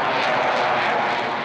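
Engine noise from an F-35 fighter jet, heard as a loud, continuous broadband roar holding steady for the whole stretch, with no voices over it.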